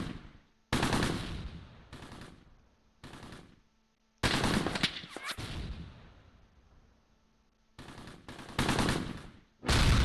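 Machine gun fire in Close Combat, a WWII game set at Les Nouillons near Caen, June 1944: several sharp rattling bursts separated by short silences, loud and close, with a final burst cutting in at the end.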